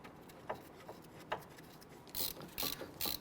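Ratchet wrench clicking in short bursts while snugging down front brake caliper bolts on a 2011-2015 Kia Sorento, quiet at first and then louder, faster runs of clicks near the end.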